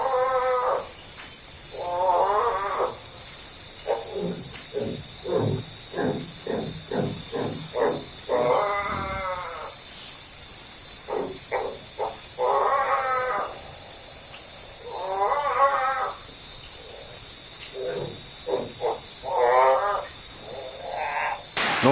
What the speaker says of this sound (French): je vais vous mettre l'enregistrement, enfin du moins un petit extrait de son que fait les crapauds